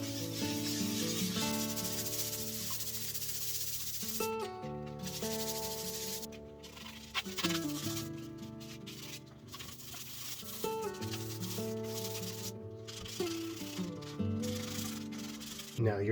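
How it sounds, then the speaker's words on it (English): A dishwasher surface sanded by hand with 150 grit sandpaper, faint raspy rubbing strokes beneath steady background music. "I'm also using 150 grit sandpaper."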